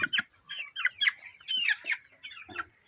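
Young chicks peep shrilly and repeatedly at close range while being held for eye-drop vaccination against Ranikhet disease, in short, uneven bursts of high chirps.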